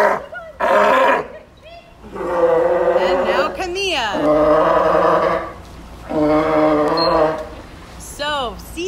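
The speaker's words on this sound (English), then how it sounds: "when they vocalize, it can sound an awful lot like a roar" A sea lion calls out in a series of loud, harsh, honking roar-like bellows, several long barks in an irregular rhythm, close and dominant over the setting.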